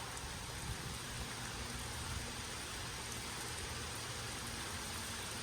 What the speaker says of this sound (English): I think it's just rain now.